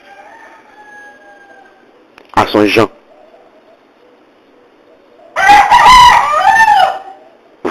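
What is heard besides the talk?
rooster crowing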